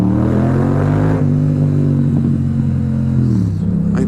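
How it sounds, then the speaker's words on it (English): A Yamaha MT-07 motorcycle fitted with an aftermarket exhaust revs up, giving a loud, close, continuous rumbling engine note that shifts pitch slightly as the throttle changes. "If you put an aftermarket exhaust on this bike, oh my god, it has the brap."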